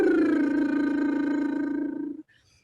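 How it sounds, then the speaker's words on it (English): A singer's lip trill gliding down a descending fifth, a buzzy, fluttering voiced tone sliding steadily lower for about two seconds before stopping abruptly, close and alone. "And for those lip trills, you're going to need a little bit of tightness in the corner of your lips."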